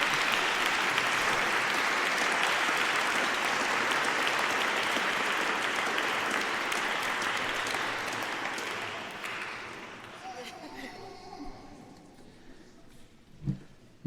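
Congregation at a Sunday Mass applauding a young child presented to the assembly, a dense, steady wash of many hands clapping for about nine seconds, then thinning and fading with scattered claps, murmurs and a brief thump near the end.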